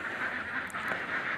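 Laying ducks in a caged egg-duck farm quack in a steady, dense chorus, a continuous overlapping din of many birds at moderate loudness with no talk.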